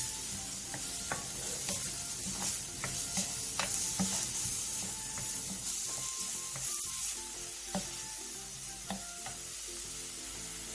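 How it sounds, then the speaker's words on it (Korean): Zucchini stir-fried with cabbage in a pan sizzles steadily while a utensil scrapes and stirs, with irregular clicks and knocks across about ten seconds and no voices. "그 다음 호박을 넣고 골고루 어우러질 정도로만 가볍게 볶아주세요"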